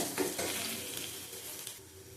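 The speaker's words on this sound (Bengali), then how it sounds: "ভালো করে ভেজে নেবো, পেঁয়াজটা ভালো করে ভেজে নিতে হবে।" Onions frying in a pan for an egg curry, a steady close sizzle with a few stirring scrapes near the start, fairly quiet and with no voices.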